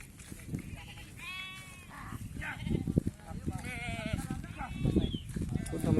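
Sheep bleat repeatedly in a flock during vaccination, overlapping quavering calls amid low background voices and movement.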